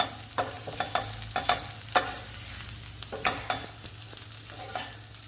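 Ivy gourd pieces being tossed with garlic chili powder in a pan, a soft sizzle under a series of quick scraping stirs from a spatula, close and fairly quiet.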